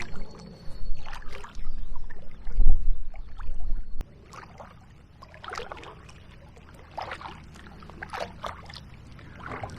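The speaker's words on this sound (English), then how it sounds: "Paddling upstream from Allington Lock" A canoe paddles upstream on the River Medway, with soft rhythmic splashes and drips of the paddle strokes, close and gentle after a brief louder rumbling at the start.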